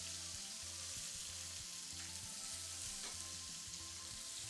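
Cauliflower sizzles steadily in a hot frying pan after being turned over, a dense continuous hiss of frying heard close up with no talk.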